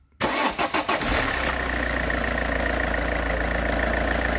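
A car's 1.4 HDi diesel engine starts after a timing belt replacement: a few rapid starter cranks, then it catches and settles into a loud, steady, close idle.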